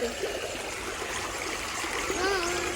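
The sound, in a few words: flowing stream water at Bukit BDA Bintulu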